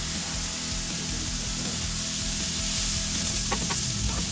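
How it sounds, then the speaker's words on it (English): Pork sizzles and fries in hot oil in a pan, a steady close crackle with occasional louder spits and a brief stir near the end, no talking. "Oil in the pan. Pork in the oil."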